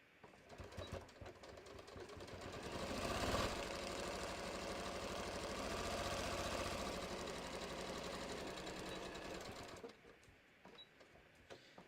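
Sewing machine stitching bucket hat pieces together, a steady close mechanical whir with quick rhythmic needle chatter that ramps up and slows for about ten seconds before stopping.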